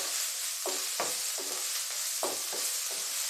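Onions and two dry red chillies sauté in a hot pan for an okra curry, a steady loud sizzle broken by several sharp stirring scrapes at irregular intervals, with no talk.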